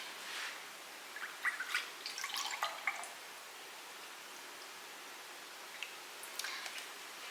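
Orange juice poured into a measuring cup in a home kitchen, a faint trickle and a few soft splashes early on, then near silence with a couple of small drips.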